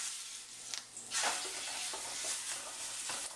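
Chuck roast browning in hot extra virgin olive oil in a pan, a steady close sizzle with faint crackles and a brief burst of spattering midway, no talk.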